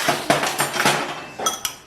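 A spoon being fetched in a home kitchen, clinking against dishes and pots in a quick series of bright, close taps and knocks, with no talking.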